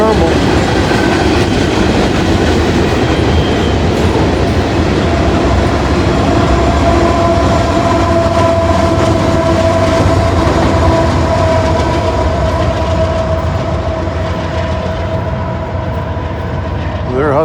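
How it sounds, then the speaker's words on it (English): A coal train rolls past close by in one long, steady rumble of wagons, with faint wheel clatter and a thin squeal running under it. "Coal train."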